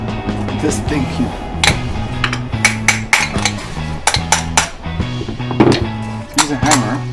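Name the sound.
hammer knocking apart Toyota Corolla starter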